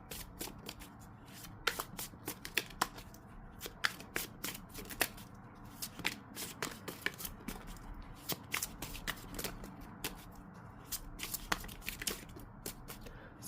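Tarot cards are shuffled close up in a steady stream of soft riffles and light slaps that carry on for several seconds, faint and without any talk.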